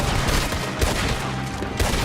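Gunfire from a firearm in the Red Dead Redemption 2 video game: several loud, close shots spaced roughly evenly apart, each a sharp crack with a short decaying tail, over low game ambience.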